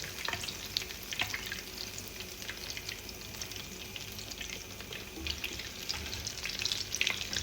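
Bread sandwich pakoda frying in hot oil after being flipped, with a steady dense sizzle and scattered crackles close by throughout, and no talking.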